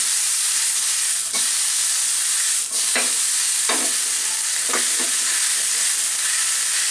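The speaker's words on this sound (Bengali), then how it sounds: "আমি কিন্তু হাই হিটে ভাজতেছি" Capsicum and chicken stir-fried Chinese-style on high heat: a loud continuous sizzle with several sharp scraping stirs at irregular moments.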